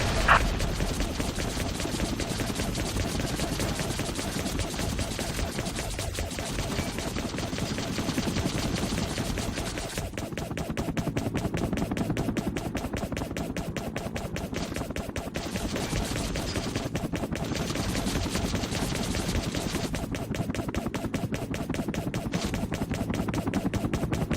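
Sustained rapid enemy gunfire in the Vietnam-era air combat game Air Conflicts Vietnam on Xbox 360, a dense continuous rattle of automatic weapons running unbroken and loud throughout with no talking.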